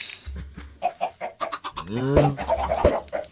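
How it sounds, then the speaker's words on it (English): Blocky farm chickens in the Minecraft ATM10 skyblock modpack cluck several times in quick succession, short bright clucks close and clear, with no talking. "More chickens."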